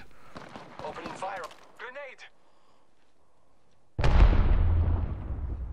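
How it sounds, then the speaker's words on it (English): Enemy gunfire in the battle royale shooter Apex Legends bursts in loud and sudden near the end, a dense crackling volley following a stretch of voice and quiet. "The enemies are shooting at me."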